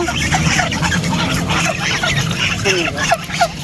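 A flock of 16 domestic geese honks repeatedly on a farm in extreme heat, overlapping calls rising and falling nearby, with people talking underneath.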